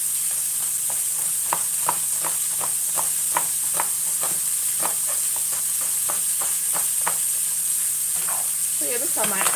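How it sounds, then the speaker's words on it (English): Sliced onion fries in a pan with burger meat, giving a loud, continuous sizzle and hiss with rhythmic scraping knocks as it is stirred. "I'm gonna slice some onion and add it to the pan for the burger sauce so they cook together"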